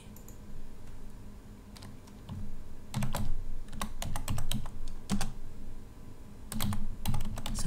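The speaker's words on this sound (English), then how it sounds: "So I type the correct answer." Computer keyboard typing in quick irregular bursts of sharp clicks separated by brief pauses, close and clear with no talking.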